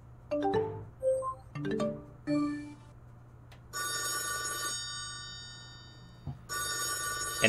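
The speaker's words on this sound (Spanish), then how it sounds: "Todos los sonidos de Windows Live Messenger" Windows Live Messenger alert and ringing tones: a few short plucked chimes, then two long bright electronic ringing bursts separated by a brief pause, loud and clean with no talk.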